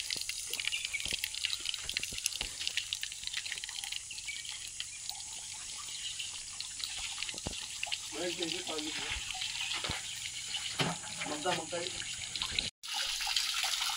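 Water pours steadily from a spout at Gaymukh, a continuous close splashing hiss that runs the whole time. Voices talk intermittently over it.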